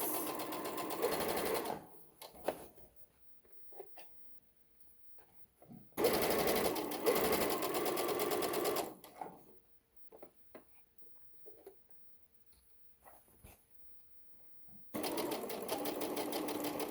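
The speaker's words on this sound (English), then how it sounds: "the more experience you get sewing, the faster you will be able to sew with confidence." A sewing machine stitches a little dress in three loud bursts of running stitches, with quiet pauses between them while the fabric is adjusted.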